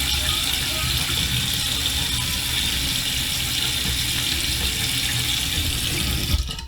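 Water runs steadily from a tap into a sink during handwashing, a continuous broadband splashing stream at a fairly close distance that holds at an even level and then briefly ends, with faint voice in the background.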